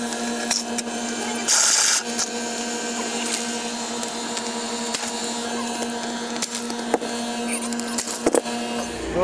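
An evaporative cooler fan with a very loose belt runs in a steady mechanical hum and drone, broken by scattered clicks, knocks and brief rattles, close and alone.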